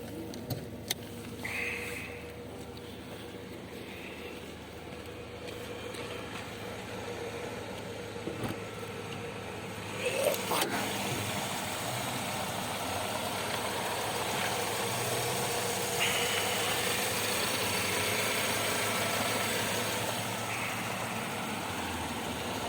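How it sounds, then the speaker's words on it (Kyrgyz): A Mercedes-Benz car engine idles steadily, a low, even rumble with a faint mechanical ticking, heard close for the whole stretch with a brief clunk midway. "Мотор топ-таза иштейт."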